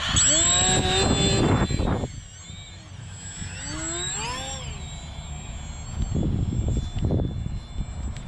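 RC model airplane on its maiden flight with the electric motor at about three-quarter throttle, a whining tone that rises and falls in pitch as it flies by outdoors, close at first then farther, with people talking intermittently.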